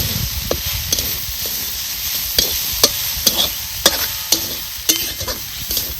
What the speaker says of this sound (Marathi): आणि चांगली परतून घ्यायची